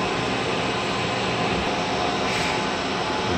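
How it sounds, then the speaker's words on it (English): Loud, steady broadband fan roar from computer equipment in a server room, continuous and unchanging with no voices over it. "sorry about the noise. Locked up in the server room today"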